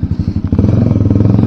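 A motorcycle engine putters in a fast, even rhythm while riding, loud and close, with the throttle picking up halfway through into a denser, steadier drone.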